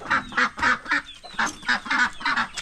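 Ducks quack repeatedly beside fish tanks on a guppy farm in Trivandrum, Kerala, about a dozen loud, close nasal calls in an uneven rhythm with short pauses between them.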